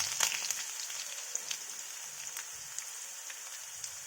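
Mustard seeds, cumin, garlic and curry leaves sizzle in hot oil while cooking spring onion palya, a steady soft hiss dotted with scattered crackles and pops.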